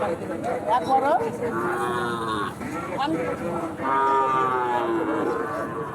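Cattle moo repeatedly at a livestock market selling small bulls and calves, several drawn-out calls in a row with crowd chatter and voices underneath.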